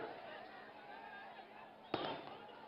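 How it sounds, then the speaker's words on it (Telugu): Firecrackers burst at an outdoor political road show rally, a sharp loud crack standing out about two-thirds through over a steady crowd and loudspeaker roar. "ఆ టపాకాయలు బంద్ చేయనా?"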